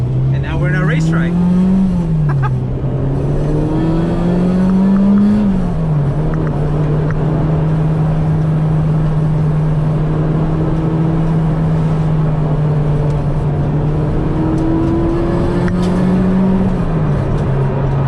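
A 1992 Acura Integra GSR race car drives on a racetrack, its loud, close engine droning continuously from inside the car, with the pitch rising and dipping through shifts and throttle changes.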